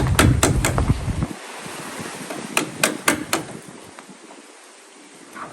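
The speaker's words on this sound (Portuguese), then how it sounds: "Olha o Nordeste soprando. Aqui dentro do galpão vira um redemoinho." A northeast wind blows and swirls inside a boatbuilding shed where a catamaran sailboat is under construction, a steady rushing hiss broken by several sharp knocks and rattles near the start and middle.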